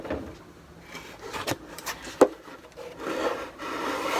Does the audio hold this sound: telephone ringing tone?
no